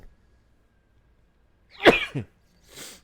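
After quiet, a single sharp sneeze bursts out close by, followed by a short breathy exhale.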